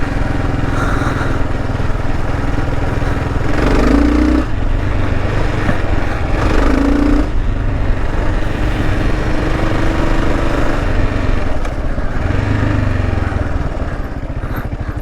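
Dual sport motorcycle engine churning steadily through muddy ruts, loud and close throughout, with revs rising and falling in brief surges as the bike pushes along; no one speaks.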